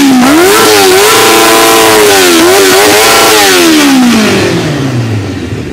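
A Honda 600 F4 sport motorcycle engine, a stunt bike, revs hard and close, its pitch climbing and dipping through several throttle blips before falling away as the roar fades toward the end.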